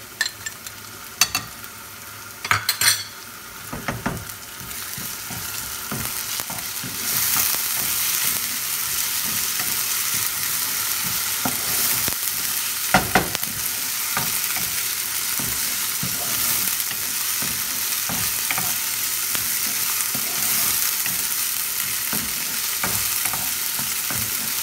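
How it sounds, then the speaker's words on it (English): Ginger, garlic and green chili paste frying in a kadai for kadai prawns, a steady close sizzle that swells louder after a few seconds, with scattered stirring clinks and scrapes of the spoon against the pan. "Now I will add ginger garlic paste. ginger, garlic and green chili paste."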